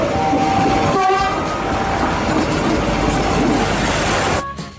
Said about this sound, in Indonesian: ini ada kereta api Thomas